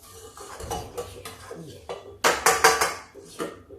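A metal ladle is lifted out of a cooking pot after a tadka tempering, giving a few soft clinks followed by a close cluster of loud metallic clatters and one last knock against the rim.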